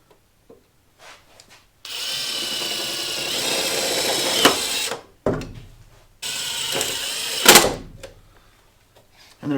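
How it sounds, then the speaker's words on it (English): A power drill drives screws while a THOR cowl induction is installed on a Jeep Cherokee XJ, two loud close whirring bursts of a few seconds each, each ending with a sharp clack as the screw seats, separated by a brief pause. "we're going to go ahead and send these screws home"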